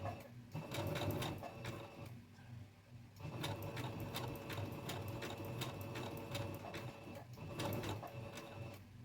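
A sewing machine stitches a dog coat in rapid, close mechanical bursts, pausing briefly twice before resuming its even needle rhythm.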